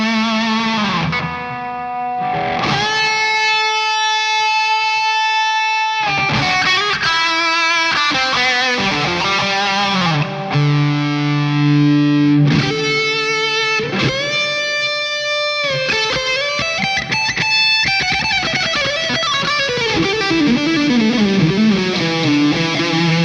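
A Fender Modern Player Stratocaster HSS in Silverburst plays through a high-gain amp with digital reverb, ringing distorted chords and sustained notes with reverb tails, then a bending, descending lead line, loud and close with no talking.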